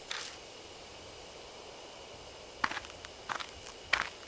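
Footsteps approach from the bushes in a dark forest in the horror game Death Mark, landing as a few sparse, crisp steps in short clusters after a quiet pause.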